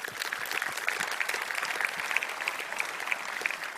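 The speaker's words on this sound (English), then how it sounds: "give these guys a big round of applause" A tech conference audience applauds steadily, with dense, even clapping that holds at moderate loudness from start to finish and no speech on top.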